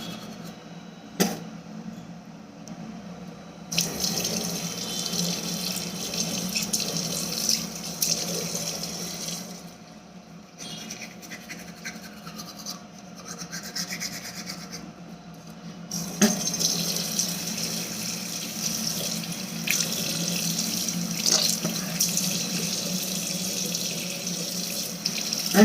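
A bathroom tap runs steadily into a sink during a morning tooth-brushing routine, a close, continuous water rush that briefly thins midway before resuming fully, with no talking.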